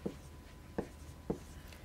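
Chalk strikes a board in three short, evenly spaced taps during a math lecture on the inverse function theorem. The taps are crisp and close over a faint room hum, with no voice.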